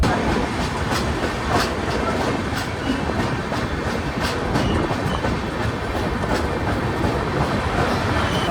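The 12864 Bengaluru-Howrah Express runs loudly on the rails, with continuous rumbling and a rhythmic clickety-clack of wheels over track joints.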